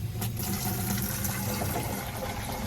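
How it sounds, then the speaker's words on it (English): Cool water pouring into a big orange water jug for a poultry brooder, a steady, close, rushing fill sound that runs continuously with no talk. "then we're going to fill that with cool water"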